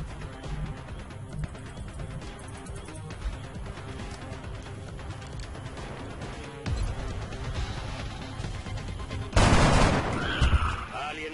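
Gunfire from the video game XCOM: Enemy Unknown, a dense stream of shots and impacts mixed with game sound effects, swelling into a louder blast near the end.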